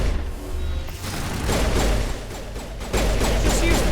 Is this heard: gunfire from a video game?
yes